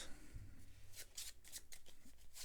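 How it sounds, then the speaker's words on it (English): A deck of cards from the board game Pandemic: Fall of Rome is shuffled by hand, with several quick riffling bursts in close succession near the microphone. "And then we will shuffle this."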